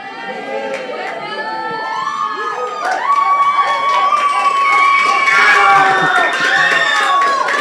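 Young people in a church congregation shout and cheer together, a loud, sustained wall of high voices and whoops that swells over several seconds.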